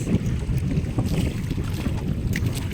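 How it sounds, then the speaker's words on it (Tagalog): Strong wind at sea around a small squid-fishing boat roars and buffets the microphone in continuous rumbling gusts, close and loud, with no talking. "Lakas naman ang hangin."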